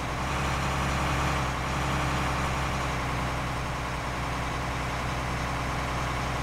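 Truck engine in Farming Simulator 19 runs with a steady heavy low rumble, its revs shifting as gears engage, continuous and fairly loud throughout with no talk.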